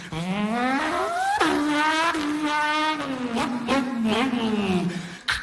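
A voice imitates racing car engines, revving and pitching up and down through gear shifts with tire-squeal effects, loud and close, continuous for several seconds.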